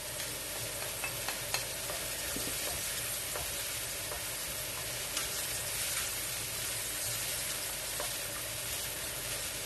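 Garlic and onion sizzle in a pan with chicken and mushroom, a dense continuous frying hiss with occasional light stirring clicks.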